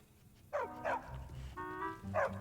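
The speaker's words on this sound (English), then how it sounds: "Miko is just sitting there barking his dumb head off" Miko, a dog in a video game, barks repeatedly in short yelping bursts, four or five sharp barks with brief pauses between them over a low game background hum.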